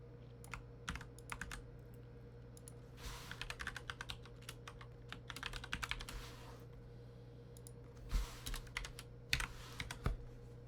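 Fingers typing code on a computer keyboard in quick clustered bursts of close, crisp clicks separated by short pauses, over a low steady electrical hum, with no talking.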